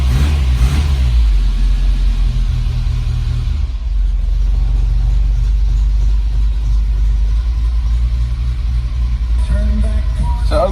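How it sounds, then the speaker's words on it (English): Car engine fitted with a Weber 38 DGAS progressive carburettor, warm and pulling away smoothly; a loud, close, steady low drone that rises slightly toward the end, heard from inside the car. "I just want to show you guys how nice this carby drives. I'm pulling away, no flat spot."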